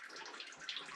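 Water dripping fast and flowing into an underground mine shaft at a water source 700 feet down, a soft steady trickle and patter, faint and continuous.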